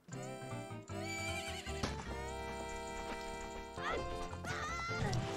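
Epona, the horse in a Zelda video game, whinnies in a series of bright, loud calls between hoofbeat-like clatter, with game music layered underneath and brief voice sounds.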